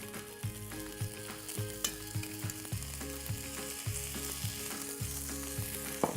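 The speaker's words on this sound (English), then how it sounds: "Let's cook this prosciutto. We want high heat just until it's a little crispy." Continuous close sizzling and frying of prosciutto slices in a pan over high heat, with regular soft thuds and scrapes as the meat is stirred and moved.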